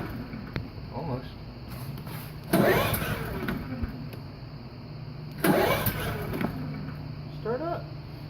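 A Champion 3100 inverter generator is pulled twice with a recoil starter, each pull giving a loud, close burst of engine sputtering that dies away. Voices talk briefly between the attempts.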